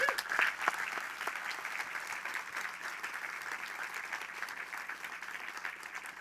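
Audience applause at a food and agriculture conference, a steady wash of many hands clapping that fades only slightly over six seconds, with no voices over it.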